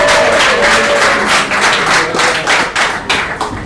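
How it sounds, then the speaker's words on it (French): Applause from a crowd at a school quiz competition, steady dense clapping that carries through the whole stretch and tapers slightly toward the end, with no talk over it. "On peut les applaudir."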